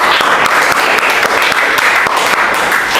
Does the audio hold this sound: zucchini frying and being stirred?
no